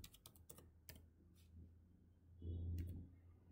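Computer keyboard typing with a handful of quick, close keystrokes near the start, then sparse taps and a faint low hum, all quiet and without talk.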